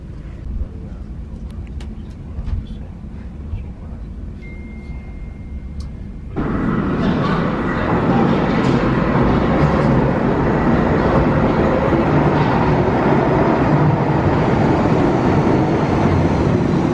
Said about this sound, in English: Just on my train home